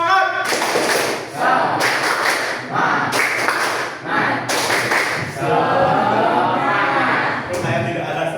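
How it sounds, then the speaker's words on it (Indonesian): Vocational high school students in a class do a rhythmic spirit clap chant, bursts of group clapping in a repeating pattern mixed with loud shouted voices, close and energetic throughout. "Tepuk semangat dulu, tepuk semangat."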